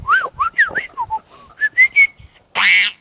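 A person whistles an imitation of a parakeet call: a quick series of chirpy rising and falling whistled notes, close and clear, ending in a brief harsher squawk-like sound.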